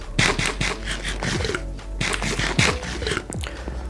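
Crunchy bites of a player eating food in the Minecraft video game, repeated in two quick bursts of chewing clicks, loud and close with no speech over them.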